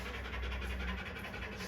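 A hunting dog pants close by after running, a quick steady rhythm of breaths with no pauses over a short stretch.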